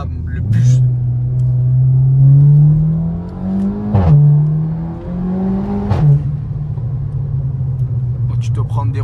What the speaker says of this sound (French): Oh, tu te prends des retours de turbo.